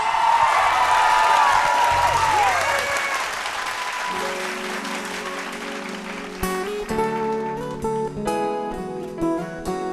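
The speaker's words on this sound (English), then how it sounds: "Round of applause." Audience applause rings out at a vocal battle show after a contestant is introduced, loud and continuous clapping that fades over several seconds as piano and singing begin.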